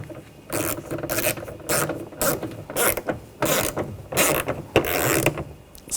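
A hand ratchet tightens a screw on the door window switch bezel of a 2014-2020 Nissan Rogue, clicking in quick, even back-and-forth bursts close to the listener.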